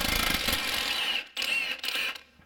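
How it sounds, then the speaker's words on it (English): An impact gun blasts off an 18 mm bolt during a lower control arm job on a Nissan Rogue, giving a dense, loud rattling burst that breaks briefly and then resumes in short hammering spurts before stopping. "we are going to go ahead and blast it off with our impact gun"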